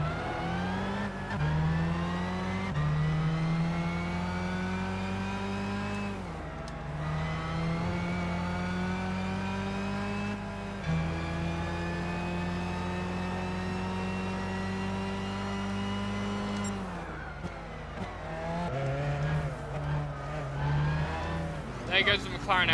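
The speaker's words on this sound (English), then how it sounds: "There goes the McLaren F1." McLaren F1 race car in Gran Turismo 6 during a 15-minute race, engine droning loudly through repeated upshifts before rushing past near the end, with other cars in the pack and a voice talking over it.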